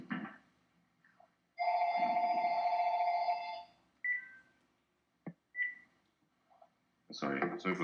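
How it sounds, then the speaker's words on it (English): A telephone rings with a sustained electronic trill for about two seconds during a webinar, followed by brief clicks and someone speaking close up. "Sorry about the phone."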